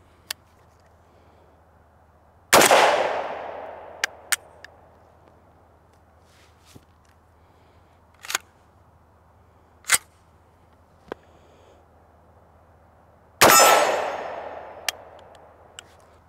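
Two sharp, loud shots from a PSA JAKL 8.5-inch 300 Blackout rifle firing 125-grain supersonic ammunition, each cracking and ringing off into a decaying echo, with faint clicks and handling noises between them.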